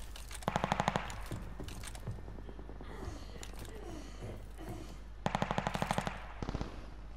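Rapid automatic gunfire in a shooting video game, two loud bursts of rattling shots at the start and again near the end, with scattered single shots, sharp effects and game noises in between.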